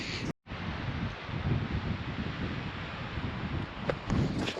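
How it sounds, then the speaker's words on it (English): Steady wind blows outdoors on a cold, exposed overlook near Custer and Mount Rushmore in South Dakota, a broad rushing roar with low gusty buffeting on the microphone, loud and continuous apart from one brief dropout, with faint ticks near the end. "And it's also very windy now."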